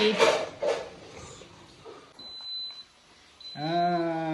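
Faint clatter gives way to a short high electronic beep, then a louder, harmonically rich tonal alarm from an Instant Pot electric pressure cooker cooking ghee rice sounds near the end.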